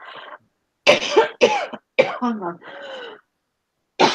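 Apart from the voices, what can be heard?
person coughing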